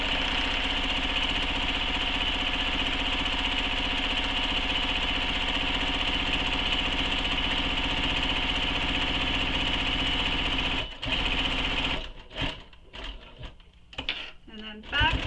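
A sewing machine stitches a bag, running in a steady, continuous mechanical whir for most of the clip before stopping and giving way to a few short, uneven bursts and handling noises.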